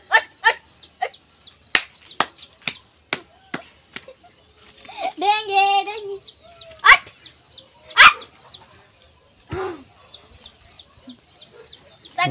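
Dogs barking outdoors in a Maharashtra village, sharp separate barks scattered irregularly near and mid-distance, with a bird chirping repeatedly and a voice in the middle.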